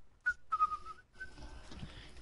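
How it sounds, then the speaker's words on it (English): A person whistles a few short, clear tonal notes during a Fortnite box fight session, heard close and fairly quiet, broken by brief pauses. "Nice whistling, buddy."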